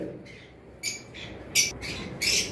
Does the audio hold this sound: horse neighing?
no